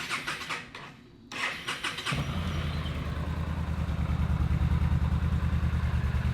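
A Yamaha VStar 1300 motorcycle is cranked by the starter with a ticking whir, then fires and settles into a loud, steady, throbbing idle close by.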